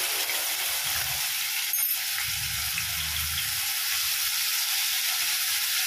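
Ginger and green chili paste sizzling and frying in hot oil in a pan over medium heat, a steady broadband hiss throughout with a brief clink near the start and low stirring rumbles.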